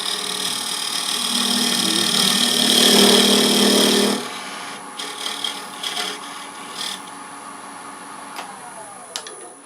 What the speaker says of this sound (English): We're going to come into the side, and we're just going to, it's a scraper, just come on back.